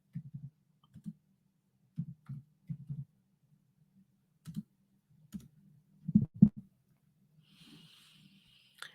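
Quiet, sparse clicks from a keyboard as a search is typed into Google, coming in short irregular bursts with gaps between them and a brief faint high tone near the end.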